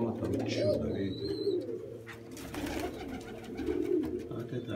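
Young pigeons cooing in a loft, a low, steady murmuring coo that continues throughout, with faint bird chirps and rustling mixed in nearby.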